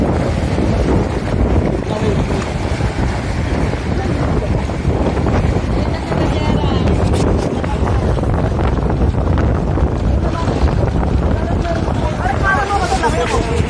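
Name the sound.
strong sea waves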